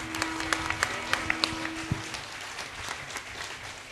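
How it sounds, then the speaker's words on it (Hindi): Applause from the audience at a traditional Haryanvi saang folk theatre performance, with scattered distinct claps and a steady broad wash of clapping that fades toward the end, a sustained tone running under the first half. "आप एक बार जोरदार तालियों से बता दें कि कितना पसंद आया आपको"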